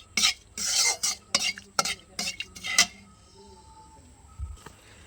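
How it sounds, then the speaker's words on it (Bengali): Dry red chillies, bay leaves and five-spice seeds stirred into hot oil for a sweet-sour raw mango pickle: a run of loud utensil scrapes and clinks against the pan in the first half, then a quieter stretch of faint sizzle. "তেল গরম হয়ে গেছে, এবার দিয়ে দেবো শুকনো লঙ্কা, তেজপাতা আর 5 ফোড়ন"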